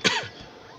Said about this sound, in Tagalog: medyo may ubo tayo ngayon